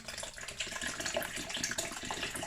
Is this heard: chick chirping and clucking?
no